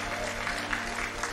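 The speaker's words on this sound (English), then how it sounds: "I love the crowd cheer." A crowd at a live speedrun marathon event cheers and claps in a steady, wash-like roar that holds evenly throughout at moderate volume, with no single voice standing out.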